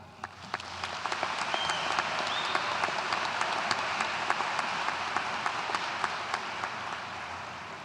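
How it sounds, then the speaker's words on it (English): Graduation ceremony crowd gives a round of applause, a broad, fairly distant wash of clapping that swells within the first second and holds steady, with a few sharper individual claps and faint whoops standing out. "please take a moment to give yourself not only a well-deserved round of applause"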